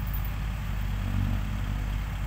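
A tractor engine drones steadily and close by as it pushes a red truck stuck in the mud, a constant low rumble with no breaks.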